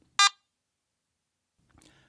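A single short, sharp electronic beep sounds from an AT MAX smoke detector as it is switched on with the power button, followed by quiet and a faint rustle.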